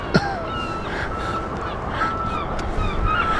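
A seagull calls by the Thames near London City Airport, giving a few harsh, moderately distant cries over steady outdoor background noise.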